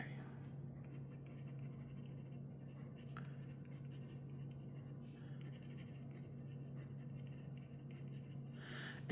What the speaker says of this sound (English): I'm going to go ahead and write the name on there